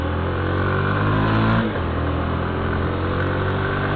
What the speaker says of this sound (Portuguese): Minha moto tá com o escape original.